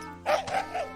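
A dog in a village barks three times in quick succession, medium-loud and fairly close, short yapping woofs with no talk over them.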